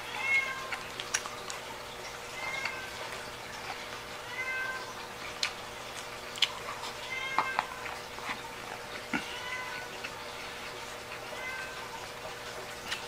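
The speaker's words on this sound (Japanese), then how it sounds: "よく鳴く猫だ。" An indoor house cat meows again and again at moderate volume, short rising calls recurring every second or two over a low steady room hum, with no talk over them.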